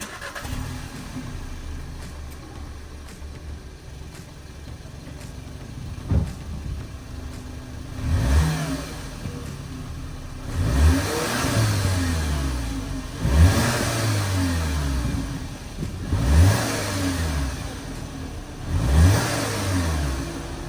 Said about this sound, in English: Now let's listen to this before the muffler delete.